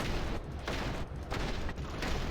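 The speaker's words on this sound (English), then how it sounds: "Hip firing with the rifle versus this Terramorph." Hip-fired Va'ruun Inflictor rifle in Starfield, shooting at a Terramorph: loud, dense bursts of gunfire in rapid succession, broken by short gaps roughly every half second, with no voices over it.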